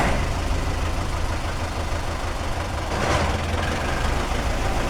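A 1990 Belarus 82.1 tractor's diesel engine running steadily at idle, a loud continuous low rumble with constant chugging, no voices.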